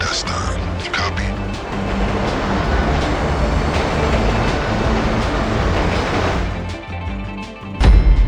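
A moving train in GTA Online rolls along with a steady rumbling clatter of wheels and wagons, loud and continuous, fading slightly near the end before a low thump; a voice talks over part of it.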